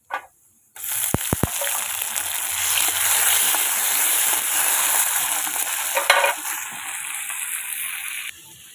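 Tomatoes drop into hot oil for a pabda fish curry, bursting into loud, continuous close sizzling and spattering after a brief silence, with a few clinks of a utensil against the pan before the frying settles and fades.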